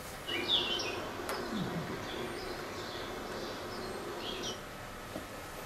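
Birds chirp and tweet in scattered short calls around a green town, fairly faint and distant, with a low background hum and no talking.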